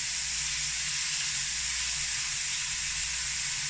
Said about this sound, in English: cook them as much as we can on the first side to get them nice and crispy before we flip them